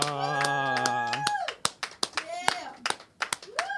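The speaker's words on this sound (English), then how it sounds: "Round of applause for Ladybug." A few podcast participants give a short round of applause in a small room, sparse sharp claps interleaved with talking voices close to the microphone.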